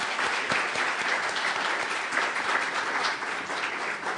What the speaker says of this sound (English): I'd like to give them a final round of applause